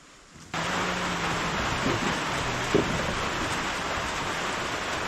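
Heavy rain pours down outdoors in a steady, dense hiss that starts suddenly and continues unbroken, loud and close, with a faint low tone and a brief knock partway through.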